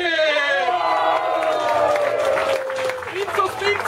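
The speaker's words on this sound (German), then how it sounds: "Bitte Applaus für Quincy!" An indoor wrestling show crowd claps and cheers for the referee, a steady wash of applause and scattered shouts while an announcer talks over it.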